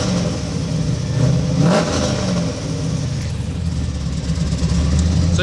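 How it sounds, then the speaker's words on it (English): A V8 engine swapped into a wide-body Mazda RX-7 FD, with an exhaust leak just after the header, revs steadily and loudly nearby, a continuous rumbling drone with a brief rise in throttle partway through. "It's definitely V8. Sounds pretty good."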